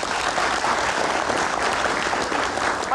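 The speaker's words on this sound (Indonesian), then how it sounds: "Kita kasih tepuk tangan dulu." An audience at a televised debate-style talk show applauds in a full, dense wash of clapping that stays loud and even from start to finish.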